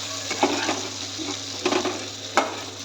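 Prawns fry in hot oil for a prawn malaikari, giving a continuous close sizzle broken by a few sharp clinks and scrapes of stirring.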